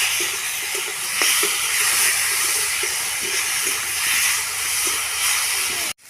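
Spiced food with salt, turmeric and green chillies sizzling steadily in a hot pan, a constant hiss throughout with faint clinks, no talk, ending abruptly.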